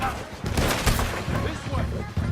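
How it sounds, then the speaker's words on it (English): Rapid gunfire crackles in a Red Dead Redemption 2 shootout, with dense overlapping shots and clatter under shouted voices, loud and close throughout. "Open fire on him!"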